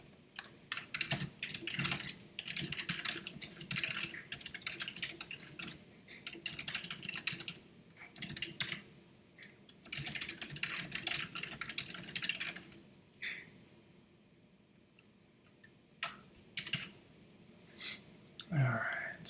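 Computer keyboard typing in bursts of quick, close clicking keystrokes with short pauses between runs, fairly quiet, with no clear talk over it.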